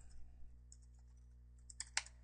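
Sparse, quiet key clicks, a few isolated taps followed by a quick cluster of sharper keystrokes near the end, no talking.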